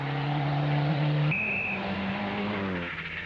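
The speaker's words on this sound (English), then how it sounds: "As David Armstrong's Sierra bottoms out on the road." David Armstrong's Ford Sierra rally car races along a stage of the Cavan Stages Rally in 1998, its engine loud and near, pitch stepping up through gear changes, with a brief high squeal midway.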